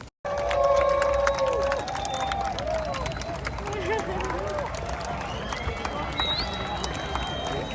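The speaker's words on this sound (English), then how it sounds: "when the sun fully sets, everyone clapped." A large outdoor crowd at Arpoador in Rio de Janeiro claps and cheers at sunset, a dense continuous wash of applause and hubbub with scattered whistles and voices mixed throughout.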